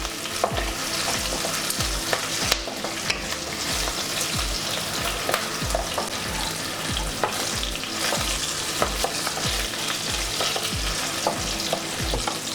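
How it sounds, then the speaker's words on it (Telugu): Dried red and green chillies frying in a pan, a dense, steady sizzle with repeated scraping stirs and clinks of a spoon against the metal, loud and close with no talking. "మనం లైట్గా ఈ ఫ్రై చేసుకుందాం."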